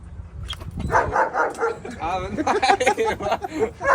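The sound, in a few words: dog barking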